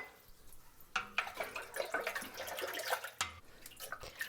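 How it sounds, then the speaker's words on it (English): Cold tap water splashing and trickling into a container of sugar-and-salt brine, soft and close, with uneven dripping bursts and a brief louder gush near the end. "I'll add the rest of the water cold."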